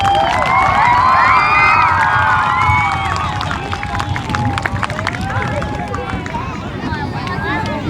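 At an elementary school law enforcement appreciation event, a crowd cheers loudly for the officers, with children shouting and only light clapping mixed into the steady roar.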